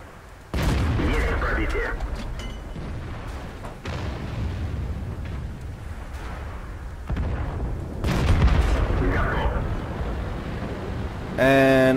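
A HEAT shell is fired from an Object 416 tank destroyer in World of Tanks, with booming cannon shots and battle rumble continuing through the clip under steady game noise and a loud burst near the end.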